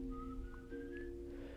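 A thin, eerie whistle from the legend of El Silbón holds a high sustained note that glides slightly upward, over a low droning musical bed, brief and fairly faint.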